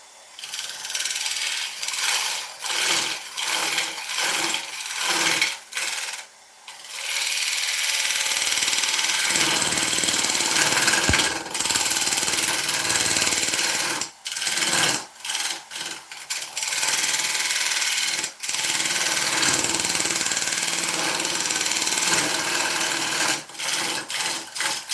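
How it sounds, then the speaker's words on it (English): A carbide tool cuts die-back ash wood on a lathe, giving a loud, continuous scraping hiss broken by short rhythmic gaps as the tool lifts and returns, with no voices. "Very, very light with that carbide, you know, because I don't want to remove tons of timber"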